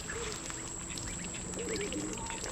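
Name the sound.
baby ducks quacking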